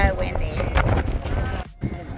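Strong wind at the Acropolis in Athens buffets the microphone in gusty bursts while a person talks over it throughout.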